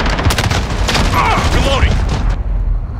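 Dense, continuous gunfire in a Call of Duty Modern Warfare team deathmatch, loud and close, with layered shots, explosions and game voice chatter mixed in.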